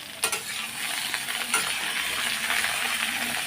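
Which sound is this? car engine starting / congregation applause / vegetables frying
vegetables frying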